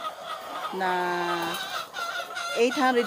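Chickens cluck and crow nearby in a steady barnyard chorus, with a faint voice mixed in.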